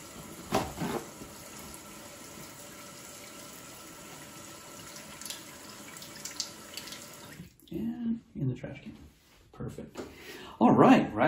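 A tap runs in a sink as hands are rinsed during hand-washing training, a faint steady water hiss that gives way to louder, splashier bursts. People talk in the background.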